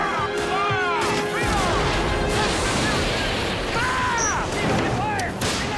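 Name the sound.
cannon fire in a film battle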